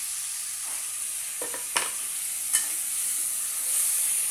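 Garlic, onion and tomato sautéing in a pan, giving a continuous bright sizzle with a few spoon-stirring scrapes and sputters, close up and with no voices.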